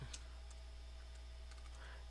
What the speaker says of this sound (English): You get to see how I'm typing this.